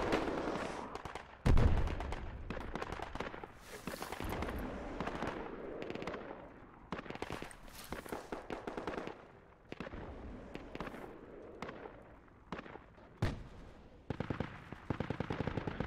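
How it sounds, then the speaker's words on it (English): Rockets fire and explode in a video game: sharp launches and booming blasts crack out repeatedly in irregular bursts, some close and loud, others trailing off, mixed with chattering gunfire. "Nice rockets."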